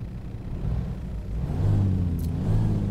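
The Kenworth W900A truck's engine in American Truck Simulator drones steadily, with a deep low rumble that rises slightly in pitch as it revs up, continuous and fairly loud with no speech.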